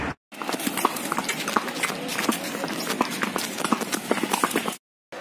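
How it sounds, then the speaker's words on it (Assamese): Horse hooves clip-clop steadily and close during a horse ride in Kolkata, a brisk running rhythm of sharp, overlapping hoof strikes that continues for several seconds before cutting out abruptly. "এটা ঘোঁৰা মই অকলে চলাইছোঁ"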